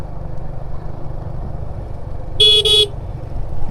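A vehicle horn gives a loud two-part honk lasting about half a second, with a tiny gap in the middle, cutting over a low steady traffic and engine rumble.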